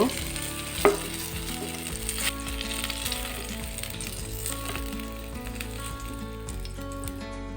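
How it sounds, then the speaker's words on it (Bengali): Eggplant pieces frying in oil for begun bhorta, a soft, steady sizzle with crackling pops and an occasional utensil clink, close but fairly quiet, fading slightly toward the end, no speech. "বেগুনগুলো উল্টিয়ে পাল্টিয়ে ভেজে নিয়েছি"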